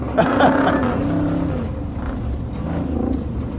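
A muscle truck's engine drones and surges during a rallycross run, a rough, throaty roar heard from a moderate distance with no clear pass-by.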